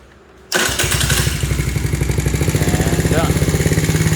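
A Tao Tao 49cc scooter engine fires up abruptly after a brief quiet, then settles into a fast, loud, close putter with a rapid regular pulse, while someone speaks briefly over it.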